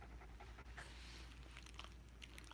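Bailey, a pet dog, pants in quick, even breaths, soft and close with no talking over it.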